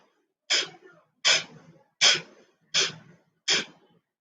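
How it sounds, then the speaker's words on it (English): Five forceful nasal exhalations of Kapalabhati yoga breathing, each a sharp close burst of air evenly spaced about three quarters of a second apart, with quiet gaps between. "Let's begin 10 breaths of Kapalabhati."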